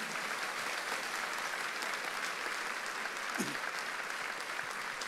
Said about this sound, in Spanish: ¿Cuánto le da un aplauso al Rey de Reyes?